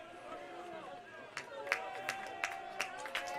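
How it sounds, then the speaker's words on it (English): A college baseball crowd in the stands swells into cheering, with a steady murmur of voices broken by a string of sharp claps and shouts heard from a moderate distance. "As the crowd getting loud below us."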